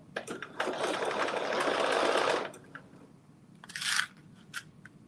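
A sewing machine runs a close, steady two-second burst of stitching along a seam at a 3/8-inch allowance, then pauses before a shorter burst, with light clicks of fabric handling between.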